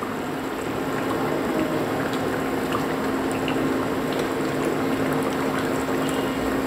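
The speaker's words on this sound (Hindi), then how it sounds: "ये जो सूप है ये थोड़ा सा फूट रहा है" Soup boils steadily in a pan on the stove, with a continuous close bubbling and spitting hiss and small pops scattered throughout.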